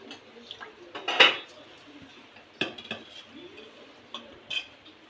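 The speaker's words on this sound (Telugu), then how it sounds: "నానబెట్టిన బాస్మతి బియ్యం వేసి ఒకసారి కలిపేసి మూత పెట్టేసుకో" Soaked basmati rice is stirred in a Healux cookware pot with a spoon: a few sharp metallic clinks and scrapes spaced irregularly, the loudest early on, set against a quiet background.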